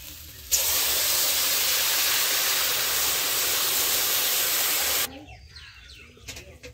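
Water splashed into a hot pan while cooking bhindi posto with egg paneer, setting off a loud, steady, broadband hiss that lasts about four and a half seconds before cutting off into quieter kitchen sounds.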